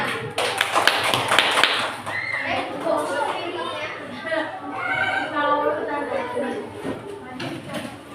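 A fifth-grade class in an Indonesian-language lesson claps for a classmate: a dense burst of many hands in the first couple of seconds, then thinning into scattered taps while a teacher's voice talks over it.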